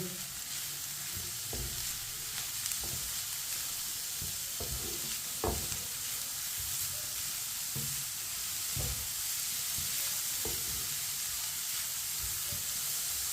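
Grated carrot and other vegetables are mixed together for Chinese kababs. Soft, scattered stirring scrapes and squishes sit over a steady hiss, with no talking.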